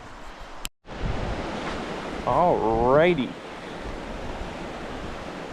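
Wind buffets the microphone steadily at a beach with surf, a broad constant rush throughout; a voice speaks briefly and a rising whistle-like tone appears near the middle.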